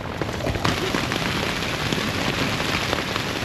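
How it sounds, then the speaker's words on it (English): Steady rain pouring at a winter beach campsite at Umpqua during a rainstorm, a dense, continuous hiss of drops on surfaces, loud and even throughout with no voices. "It's raining."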